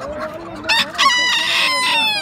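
A rooster crows once at a poultry market, close and loud, in a single rising and falling call with no other sounds around it.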